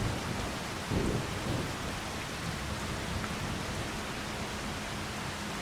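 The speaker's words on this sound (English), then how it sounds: "There's the rain." Steady rain in a farming video game, with a low rumble of thunder rolling in near the start, a dense wash of noise with no voices.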